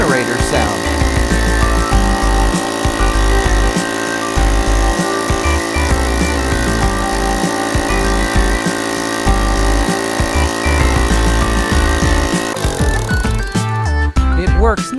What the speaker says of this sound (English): What you hear now is the generator sound.